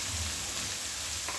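Asafoetida (hing) dropped into hot oil with red chilies, a steady close sizzle and crackle of frying throughout.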